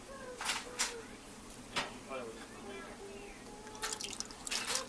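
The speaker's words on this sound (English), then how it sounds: "I'm pouring the juice of the pineapples in, not all of it." Pineapple juice is poured into a pan for a pineapple upside-down cake, a soft trickling splash with a few brief bursts, faint and close, under low background noise.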